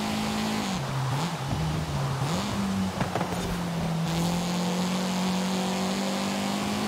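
A racing car in Forza Horizon 5, fitted with a swapped-in Honda Civic engine, drones at a steady, fairly loud engine note with small pitch dips as it shifts and corners, running continuously with no talk.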